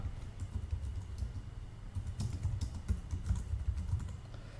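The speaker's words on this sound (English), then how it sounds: "I will do that by pressing enter on the keyboard, and I'll start writing my review on the next line" Quiet, steady clatter of typing on a computer keyboard, with rapid, irregular key clicks running continuously and no one speaking.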